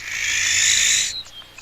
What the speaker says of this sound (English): That owl's a friendly neighbor.